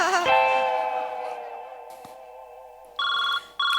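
A telephone rings loudly in a comedy sketch, one long sustained ring that fades, then two short bursts of ringing after a pause, with no voices over it.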